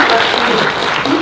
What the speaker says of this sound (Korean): 박수를 해주시죠.